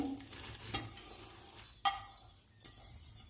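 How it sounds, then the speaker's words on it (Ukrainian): Cooked beans and cabbage tipped into a pot of Ukrainian red borscht with mushrooms, heard as a few soft wet thuds and spoon clinks against the pot over a quiet kitchen background. "Тепер висипаю сюди фасолю, варену, капусту"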